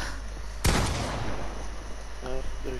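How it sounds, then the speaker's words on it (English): A single sharp gunshot cracks out in a Fortnite box fight, loud and close, followed by a lingering noisy tail and faint game tones. "they're shooting each other"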